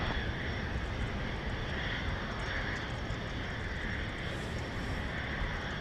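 Airplane at Dallas Love Field, a distant, steady engine roar with a broad rushing wash that stays fairly constant for several seconds, faint and heard from afar.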